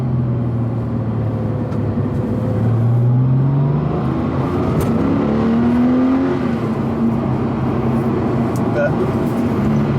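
Porsche 993 flat-six engine, mounted in the rear, heard from inside the car while driving: a steady loud drone with rising and falling pitch as it pulls through the gears, continuous throughout.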